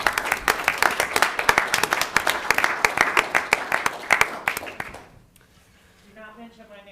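A board of education meeting audience gives a round of lively applause, dense clapping that lasts about five seconds and then stops abruptly, followed by a brief quiet voice.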